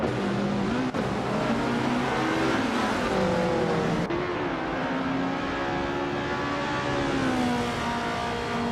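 Race car engines in a racing video game, a continuous loud roar with several engine tones rising and falling as cars accelerate and shift, layered and close with no talking over it.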